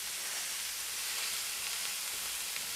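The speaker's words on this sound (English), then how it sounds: "Heat up a drizzle of oil and add 1 to 1 1/4 pounds of ground beef." Ground beef (ground round) frying in a drizzle of oil in a pan, a dense, continuous sizzle with steady crackling, close and even throughout.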